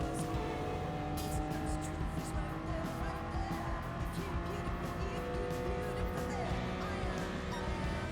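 Race car drifting in Gran Turismo Sport, a steady loud engine drone with tire squeal running throughout, while a player talks over it.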